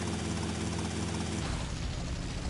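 A helicopter in Grand Theft Auto: Vice City gives a steady, loud, dense rotor and engine drone throughout, which shifts in tone about halfway through, with no talking over it.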